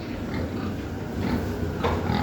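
A domestic pig on a village farm grunts softly and low, faint under steady background noise.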